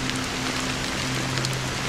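Dense rain hisses loudly and evenly in a video game boss-fight scene, a constant wash of drops over a low steady hum.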